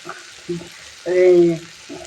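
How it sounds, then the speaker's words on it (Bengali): Small fish sizzle in a pan of hot oil for a sour-mango curry, with a few short frying bursts and a louder, sustained sizzle in the middle, close and alone. "আমি একটুখানি ভাজা ভাজা করে ফেলছি"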